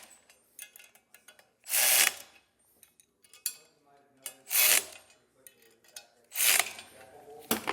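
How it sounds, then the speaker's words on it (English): Socket wrench with a 9/16 socket snugging down trailer hitch bolts, heard as several loud rasping ratchet bursts spaced a couple of seconds apart, with fainter clicks and handling noise between them. "Now we're going to use a 9/16 socket and wrench to snug each one of these down."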